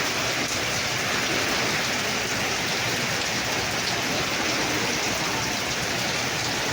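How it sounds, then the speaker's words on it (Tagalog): Dense, heavy typhoon rain from Typhoon Kristine roars continuously and evenly, a thick hiss of water drumming on surfaces with no pauses. "Grabe ang ulan."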